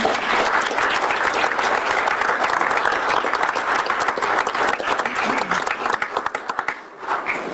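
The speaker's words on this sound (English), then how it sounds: "How about a round of applause for Charlie?" At a city council meeting, the audience gives a round of applause for Charlie, a retriever-mix police facility dog, a full, steady clapping that thins into scattered individual claps toward the end.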